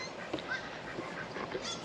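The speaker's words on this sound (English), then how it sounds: "So there's my little ducks." Pet ducks quack outdoors on a rain-soaked grassy yard in Oklahoma, a few short, fairly soft calls scattered over a steady low background, with no one talking.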